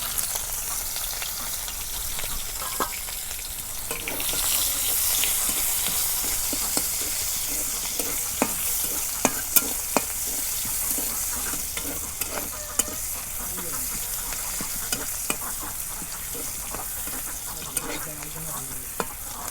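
Cabbage and chopped onion sizzle in hot oil in a village kitchen, a steady frying hiss broken by repeated scraping and clacking strokes as the pan is stirred, close by with no talk.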